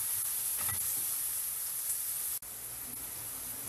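Chopped onion sautéing with garlic in hot oil for a Filipino chicken dish, giving a steady, close, fairly quiet sizzle and hiss that runs throughout, with a brief dropout partway through.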